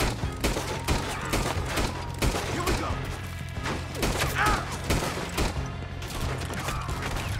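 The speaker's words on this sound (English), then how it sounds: "Just keep shooting till nothing moves." Rapid gunfire in a Red Dead Redemption 2 shootout, repeated sharp shots in quick succession over a constant background rumble, loud and close, with occasional voices in the game.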